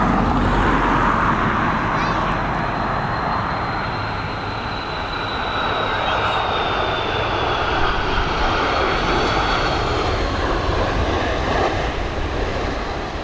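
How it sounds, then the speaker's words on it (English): An Airbus A330 airliner lands at Dublin Airport in high winds. Its jet engines roar loudly and continuously with a high whine that slowly falls in pitch, all heard nearby with no talk. "Beautiful landing from the A330 crew."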